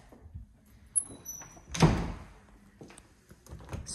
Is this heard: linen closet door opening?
yes